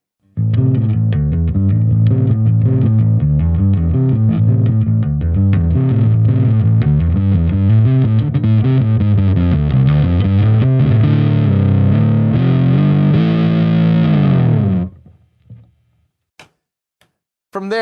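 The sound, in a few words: bass through Acoustic B25C combo amp overdrive, subtle to full saturation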